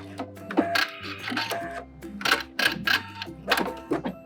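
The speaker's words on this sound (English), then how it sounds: "We are just gonna sew over this a few times." Sewing machine running in short bursts, stitching back and forth over fabric on a puff-sleeve babydoll dress seam, its motor hum starting and stopping with rapid mechanical clatter, close and fairly loud.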